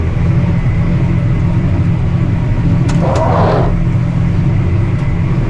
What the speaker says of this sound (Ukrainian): Зараз трактору важкувато, тому що реально трохи пересохло ґрунт.